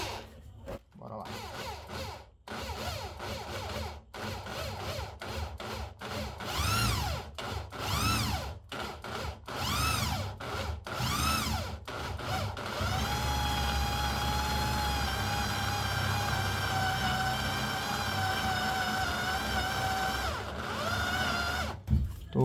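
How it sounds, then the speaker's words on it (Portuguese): An electric drill with an 8 mm bit bores in repeated short bursts that start and stop in an irregular rhythm, then runs in one long steady stretch, with someone speaking between and over the drilling. "Vou furar mais devagar, né?"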